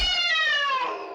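A person's voice imitates a cat with one drawn-out, falling meow, close and alone.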